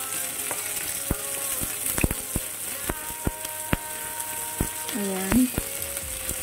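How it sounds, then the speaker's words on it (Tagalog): Garlic and shallots sautéing in oil for pancit bihon, a steady close sizzle with sharp clicks of a utensil tapping the pan, while a voice speaks briefly. "I-saute lang natin hanggang mag-brown yung garlic at saka yung sibuyas."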